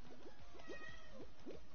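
Tiro the cat meows repeatedly, several short, rising mews in a quick series, close and fairly faint over a steady low background hum.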